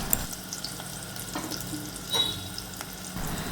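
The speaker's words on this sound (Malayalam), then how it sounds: "അതിലേക്ക് നമുക്ക് അരിഞ്ഞു വെച്ചിരിക്കുന്ന ഈ കപ്പങ്ങ ഇട്ട് കൊടുക്കാം." Chopped raw papaya drops into hot coconut oil in a pan, giving a moderate frying hiss with a few soft knocks and a brief louder burst partway through.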